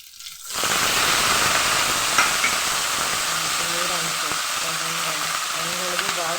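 Leafy greens dropped into a hot pan burst into loud, steady frying sizzle after a brief quiet start, with some stirring scrapes and a faint voice in the background.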